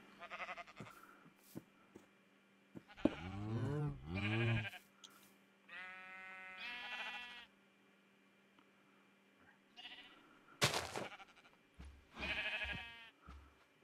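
Sheep bleating in a Minecraft farm, a series of separate wavering bleats spaced apart with quiet gaps and small clicks between them.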